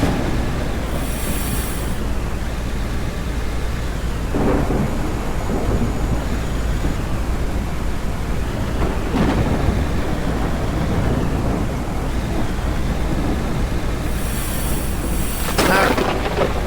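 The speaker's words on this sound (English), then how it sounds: "This is a pretty good storm." Thunderstorm with steady rain in the video game Out of Ore, rolling thunder breaking in loudly several times over a constant rain roar, with no talk.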